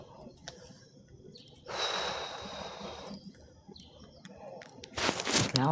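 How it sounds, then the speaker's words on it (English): A bird chirps outdoors in short, faint calls scattered across the moment, heard alongside a brief burst of rustling noise and low background rumble. "Oh, that's a bird."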